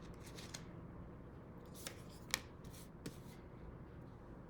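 A deck of tarot cards being shuffled by hand, with soft riffling and scattered sharp card flicks and snaps at irregular moments over a quiet, steady background hiss.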